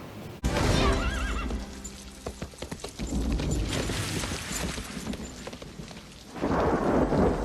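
A horse from the animated film Mulan whinnies loudly near the start, then hoofbeats and rumbling, storm-like sound effects follow amid a busy, dense film soundtrack, with another swell of noise at the end.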